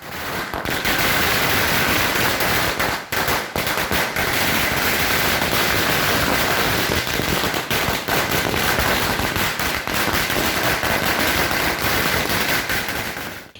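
Firecrackers bursting in celebration near the Jokatte railway gate in Mangalore, a loud continuous crackling barrage of rapid pops running the whole time with only brief dips, close and dense.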